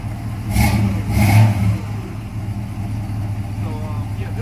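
A 1968 Buick GS V8 rumbles close by at idle, with two quick throttle blips early on, then a steady low running note.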